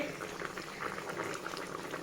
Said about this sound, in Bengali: একদম টকবক করে ফুটছে